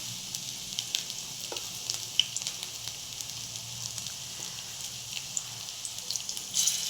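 Cabbage pakoras fry in hot oil with a steady, close hiss, dotted with small crackles and pops throughout.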